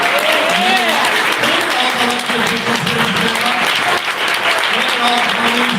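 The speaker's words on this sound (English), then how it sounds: "How about a big round of applause for the young women?" A loud, full round of applause from an audience at a community event in Milwaukee, close and sustained throughout, with some cheering voices mixed in.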